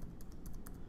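Quick, light keystrokes on a computer keyboard, a handful of soft, closely spaced taps heard faintly and alone.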